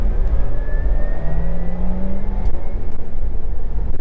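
Porsche Taycan electric car accelerating hard in Sports Plus mode on the Sepang race circuit, a steady loud electric whir and synthetic drive tone rising in pitch, continuous throughout without talk.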